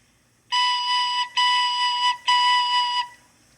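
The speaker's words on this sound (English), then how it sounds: "how many times did you hear that little flute go?" Three sustained, bright flute-like tones in a row, the first two longer and the last held longest, clean and alone over near silence.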